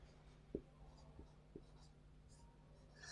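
Chalk or marker scratches on a board during a geometry class, a few faint short strokes in a quiet room with soft murmuring in the background.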